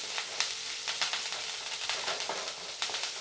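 Curry leaves sautéing lightly in a pan for ada dosai, a soft, fairly quiet sizzle with a few crackling pops and faint stirring, heard alone without any voices.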